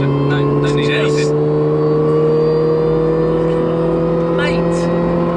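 A Mini's engine revs hard toward 7,000 rpm on a B road, droning loud and steady from inside the cabin with a voice briefly audible over it.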